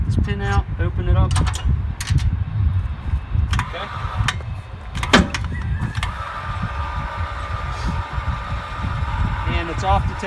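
An RV trailer jack lowers at an outdoor campsite with a steady mechanical whir, scattered clicks and knocks over a rumbling background throughout.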